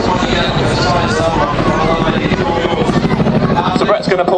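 Chinook helicopter rotors beat loudly and continuously during a roller coaster manoeuvre at the Blackpool Air Show, a rhythmic heavy chop with wind noise underneath an announcer talking over a loudspeaker.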